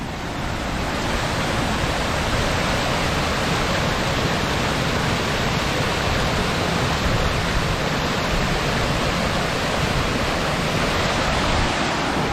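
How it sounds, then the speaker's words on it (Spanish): A waterfall in San Clemente, Córdoba, heard from the top of the falls, rushes as a loud, constant broadband roar that holds steady throughout with no voices. "Acá estoy en la parte de arriba de la cascada."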